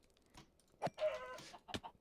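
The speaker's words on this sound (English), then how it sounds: "This is a lot of chickens." Chickens cluck in a Minecraft-style multiplayer video game, a few faint, sparse clucks and squawks in otherwise quiet surroundings.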